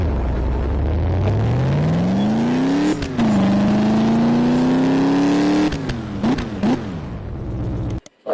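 A video game car with a straight pipe exhaust revs and accelerates, its engine pitch climbing through gears with sharp shifts and brief drops, loud and raw, ending abruptly.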